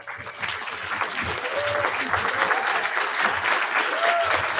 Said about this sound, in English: Give them a round of applause here.